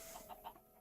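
Chickens in Minecraft give a few soft clucks, three quick faint calls in a row over a quiet background hiss.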